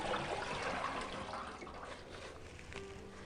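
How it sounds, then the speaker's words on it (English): Sage leaves being washed in clean water and drained, a steady close splashing and trickling wash of liquid that runs continuously and eases slightly toward the end. "Give your sage a wash in some clean water and then drain it off."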